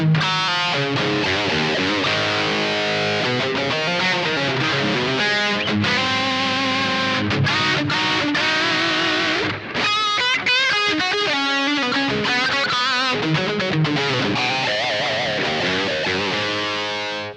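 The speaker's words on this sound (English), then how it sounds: "when you turn the reverb on, this thing really comes alive to me." An electric guitar plays chords and runs through a Marshall JMP-1, its notes washed in reverb that lets them ring and trail off.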